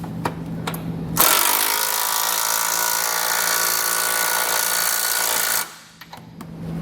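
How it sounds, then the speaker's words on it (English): An impact tool with a 19mm socket runs in one continuous loud burst of about four seconds, tightening bolts while a Roadmaster Direct-Connect base plate is installed, with brief clicks before and after. "So we'll tighten everything down using a 19mm socket and open and wrench."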